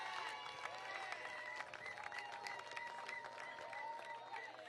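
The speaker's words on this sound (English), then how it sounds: "Give Vance a round of applause." A crowd at a political rally claps for Vance, thin scattered applause at a distance under a steady hum, with faint tonal sounds and a murmur of voices mixed in.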